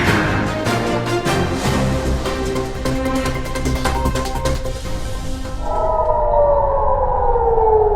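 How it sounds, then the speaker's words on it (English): A loud air raid siren in Israel wails steadily, its tone sliding as it rises and falls, with a busy rumbling background mixed in. "air raid sirens blared across Israel"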